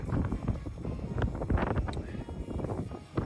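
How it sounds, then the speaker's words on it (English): Strong wind buffets the microphone in a steady low roar at Truck Haven during an off-road outing, with gusts swelling and fading throughout. "it's super crazy windy"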